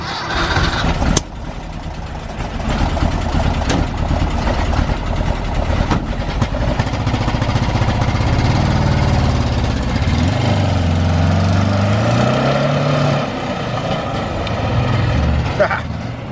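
A Porsche 914 that had sat unused for six months cranks and catches, then runs loud and rough with a buzzy, uneven idle and revving near the microphone while people talk over it.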